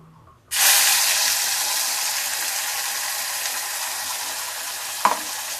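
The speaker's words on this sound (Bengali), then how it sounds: "এই যে পেঁয়াজ টমেটো আর দুটো কাঁচা লঙ্কা ছিল সেগুলো আমি এর মধ্যে দিয়ে দিলাম" Onion, tomato and green chilies drop into hot oil with garlic in a pan, setting off a sudden loud hissing sizzle that continues steadily, broken once near the end by a single sharp utensil clink.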